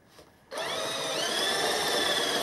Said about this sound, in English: So let's see if we can drill this out.